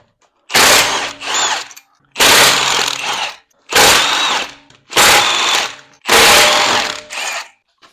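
A car jack lifts a 2019 Acura ILX in five loud, close pumping strokes, each a harsh mechanical ratcheting burst separated by brief pauses.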